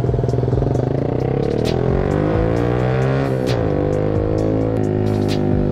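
A motorcycle rides fast through the night, its engine roaring loud and close with rising and falling pitch as it accelerates and shifts, continuous wind and road rush underneath.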